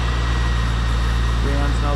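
A C5 Corvette engine idles steadily with its AC compressor running while refrigerant is charged, giving a constant low hum with a faint rising tone near the end.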